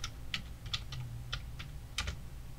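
Short run of computer keyboard taps entering a file name: about eight quiet, close key clicks in uneven clusters over a faint low hum, no talking.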